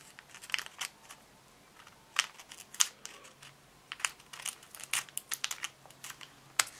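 Scissors snip around a thermal shrink sticker for decorating Easter eggs, giving a close series of sharp, irregular clicks and cuts with faint crinkling of the film between them.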